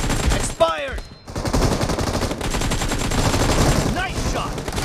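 Rapid automatic gunfire from the video game PUBG Mobile, dense bursts running almost continuously with a brief gap near the start, loud and close, with game announcer voice lines over it.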